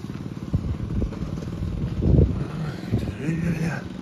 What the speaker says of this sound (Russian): Какой мотоцикл с коляской.